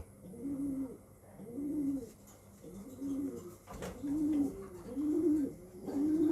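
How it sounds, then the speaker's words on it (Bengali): A male long-distance racing pigeon coos close by in a repeated, rhythmic series of soft throaty calls, about one per second, against quiet background noise. "এটা একটি নর কবুতর"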